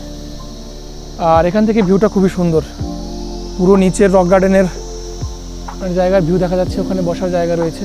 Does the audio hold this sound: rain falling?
no